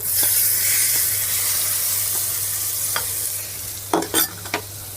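Hot fried tempering is stirred into a cucumber and peanut curry, a loud hissing sizzle that fades gradually, followed near the end by a few sharp scraping clinks of a spoon against the vessel.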